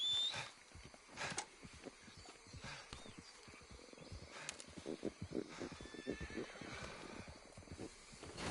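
A horse in Red Dead Redemption 2 neighs and whinnies loudly near the start, followed by repeated hoof clip-clops and snorting movement throughout, with busy in-game background sound.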